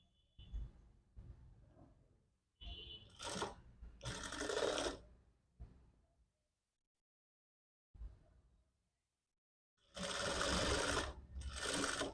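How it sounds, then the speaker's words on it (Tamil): A sewing machine stitches a readymade nightie in short bursts, its rapid mechanical whirr starting and stopping several times close up, with quiet pauses between runs and no talk. "இப்போது தையல் போட்டுட்டிங்களா அது மாதிரி இங்கேயும் தையல் போட்டாச்சு"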